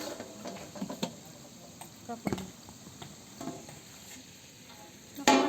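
Jeera rice with curry leaves being stirred in a large pot, cooked as a big batch for a crowd of three hundred: soft, irregular scrapes and clinks of a spoon against the pot over a low background hiss.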